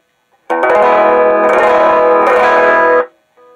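Electric guitar with a sliding pickup set flat rather than tilted, a loud sustained strummed chord with a couple of restrikes, ringing about two and a half seconds through effects before cutting off.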